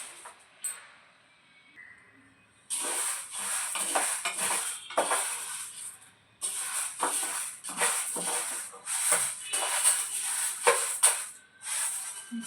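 A utensil stirs and scrapes in a pan over a low flame, with irregular metallic clinks and scraping strokes that come in close bursts and short pauses, and only a faint sizzle beneath.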